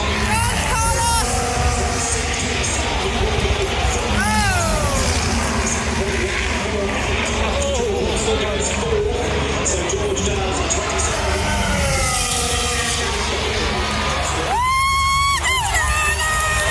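Crowd at the British Grand Prix at Silverstone reacts loudly, with cheering, yelling and whooping over dense babble, and sharp screams rising near the end.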